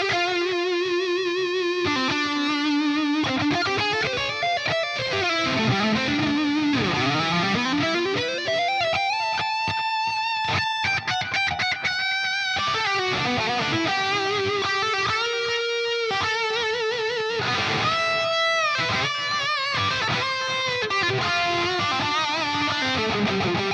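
An electric guitar plays through heavy hex drive distortion on a Quad Cortex, with sustained, gritty chords and bending lead lines that ring out continuously without any talking.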